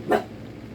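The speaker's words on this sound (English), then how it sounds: "And excuse the dogs, they are having a day of barking." A single short dog bark indoors, moderately loud and close, followed by quiet room tone.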